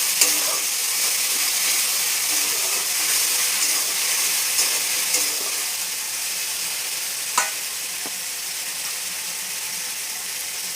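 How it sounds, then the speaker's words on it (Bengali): Spice paste fries in a pan with salt while being stirred for a butter soya chunks chicken dish, giving a steady close sizzle with occasional scraping clicks and taps from the stirring utensil. "ভালো করে নেড়ে চেড়ে একটু ভেজে নেব।"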